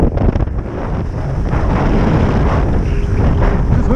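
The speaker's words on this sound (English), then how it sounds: "It is super windy, you guys, out here, and it's pretty cold." Strong, cold wind buffets the microphone on a fishing boat off the Florida Keys, a loud continuous roar with low gusty rumble and faint water beneath.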